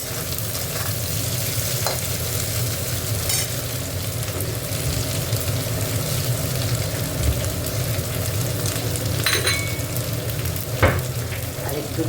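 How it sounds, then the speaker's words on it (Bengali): Dried fish frying with onion in a pan, a continuous close sizzle with occasional clinks and scrapes of stirring over a low background hum. "পেঁয়াজ দিয়ে এবার একটু ভেজে নিচ্ছি।"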